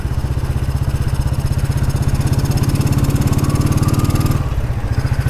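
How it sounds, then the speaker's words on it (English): A Royal Enfield motorcycle being ridden in summer, its single-cylinder engine thumping in a steady, loud, close rhythm with constant road and wind noise, easing slightly near the end. "I'm riding my winter bike in the summer."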